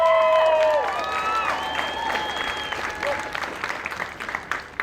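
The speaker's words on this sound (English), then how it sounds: "Give yourselves a round of applause." A large crowd at an Air Force basic military training graduation ceremony bursts into loud, sustained applause and cheering. A voice rings over a public-address system at the start, and the clapping stays dense and steady throughout.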